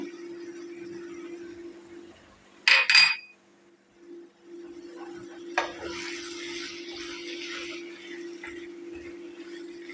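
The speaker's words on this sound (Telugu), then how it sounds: "చికెన్ వేసినాక బాగా కలుపుకోవాలి. ఇప్పుడు చికెన్ వేసినాక పసుపు పొడి వేసి బాగా మగ్గనియాలి." Chicken with turmeric is stirred in a curry pan, giving a sharp metallic scrape or clink followed later by a softer sizzling rustle over a steady low kitchen hum.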